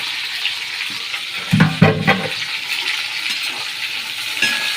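Meat with onion and garlic sizzles in hot oil, a constant close frying hiss broken by a few louder clatters and bumps as the pan is stirred.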